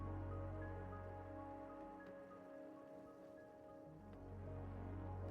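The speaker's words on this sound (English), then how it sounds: "Raining sulfur gas was not the plan." Sulfur gas falling as rain in the game Oxygen Not Included, a steady soft hiss of rainfall with a low hum beneath, continuous throughout with no talking.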